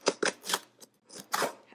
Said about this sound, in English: Let me grab some scissors so I can slice it open.